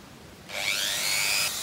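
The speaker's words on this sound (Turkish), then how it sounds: "ince bir matkap ucuyla deliyorum" A thin bit drills a pilot hole into wooden lambri paneling on a wooden house build, a steady close high-pitched whir starting abruptly about a third of the way in and running for about a second before stopping.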